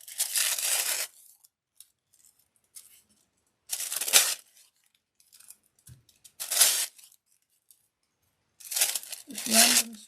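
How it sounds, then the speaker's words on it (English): Coloured craft paper torn by hand into random strips, several separate bursts of ripping spaced across the moment, close and fairly loud with a soft voice briefly between them. "I'm going to tear this up into some strips."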